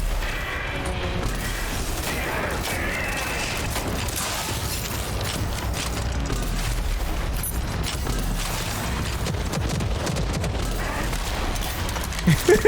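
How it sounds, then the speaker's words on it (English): Rocket launcher blasts and explosions in the game Rage 2, a dense, loud barrage of booms and mechanical clatter running the whole time, with a few sharper hits near the end. "I appreciate how broken shooting this thing with a rocket launcher is"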